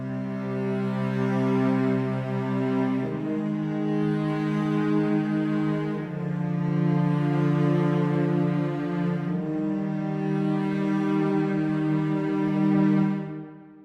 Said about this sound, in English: Let's start with the cello's bloom.